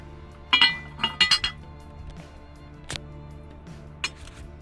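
A Limoges porcelain lid with transfer-printed decoration clinks against its dish in a few sharp ringing taps, with a cluster in the middle and single clinks later, close and clear over a quiet background.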